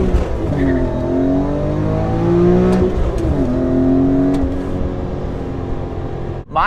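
A supercharged BMW E39 M5 engine pulls hard after a downshift into third, its loud rising whine and rasp climbing steadily, dipping for a shift and climbing again, with a brief drop near the end.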